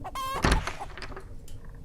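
A speckled hen walks about a kitchen, setting its clawed feet down carefully; brief clucking and a soft thump come close by, then quieter shuffling fades out.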